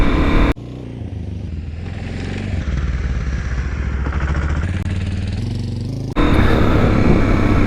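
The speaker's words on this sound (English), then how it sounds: "I'm gonna show you guys my wheelies." A motorcycle engine revs and roars loudly close by while the rider pulls wheelies on a straight path, the pitch shifting as it rises, dips briefly and surges again.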